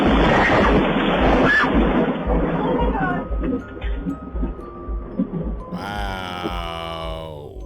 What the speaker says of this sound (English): That was some mean lightning, boy.